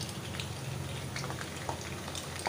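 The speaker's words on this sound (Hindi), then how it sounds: "ये फ्रेंड्स आप भी बबल सुन सकते हैं" Oil bubbles and sizzles steadily as banana chips fry, a soft continuous crackling with faint pops, close by.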